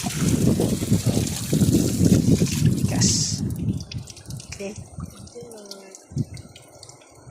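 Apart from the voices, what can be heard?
strong flowing water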